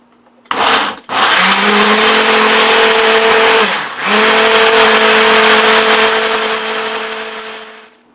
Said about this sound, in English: I'm going to use my single serve button, and that's going to help blend this all together.